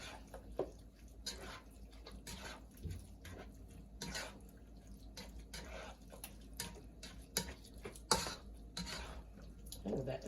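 A spoon stirs homemade chili made with chili seasoning mix in a pot, faint repeated scraping and clinking taps in an irregular rhythm, quiet and close, with some soft talking.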